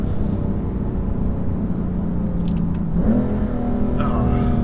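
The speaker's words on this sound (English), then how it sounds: "But the sound this car has, it's so visceral." A BMW M3 Competition engine rumbles steadily nearby, then revs up with a rising growl and a few crackling pops from the exhaust.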